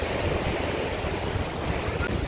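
Ocean surf at Torrance Beach, a Los Angeles-area shore known for high waves, gives a steady, loud wash of breaking water with wind rushing across the microphone and no voices.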